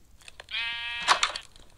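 A single sheep in the Minecraft video game gives one clear, drawn-out bleat, close and moderately loud, with no talk around it.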